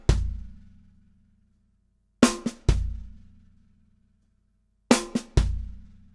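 Shuffle groove on a drum kit played as a two-bar pattern, with a snare and kick triplet figure on beat two: sharp cymbal-and-snare hits recurring about every 2.5 seconds, each followed by a low kick thump that decays into ringing silence.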